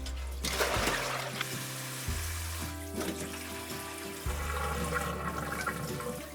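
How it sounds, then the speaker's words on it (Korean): Ginseng roots being rinsed under running water, a continuous splashing flow with intermittent clunks and shifts in pitch as the roots are handled, close by. "다시 한번 인삼을 헹궈 주겠습니다"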